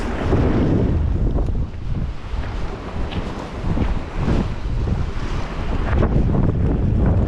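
Strong wind roaring and buffeting the microphone by the water on a November fishing spot in Helsinki, a loud, continuous rumble with gusts and faint wave wash beneath.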